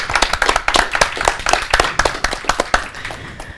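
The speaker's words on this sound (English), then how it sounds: "Give her a warm applause." Seminar audience applauding Belarusian radio correspondent and investigative reporter Alexandra Dynko as she is introduced, a fairly close, uneven patter of clapping from a modest crowd that thins out by the end.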